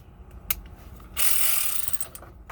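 A small ratchet wrench clicks in a short burst of rapid ratcheting, close and fairly loud, with a couple of faint taps before it, during work on a Chrysler's dashboard airbag.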